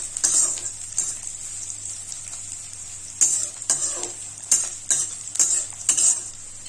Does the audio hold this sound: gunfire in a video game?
no